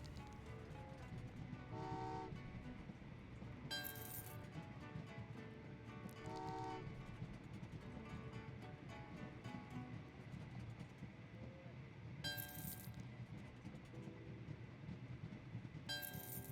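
Trains running in the railway puzzle game Train Valley 2, heard as a steady rolling rumble with several bright horn toots recurring across the level, no talk over it.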